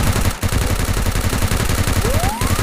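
Rapid automatic gunfire in the Free Fire mobile shooter game, a dense stream of loud close shots rattling almost nonstop, with a brief rising whistle tone near the end.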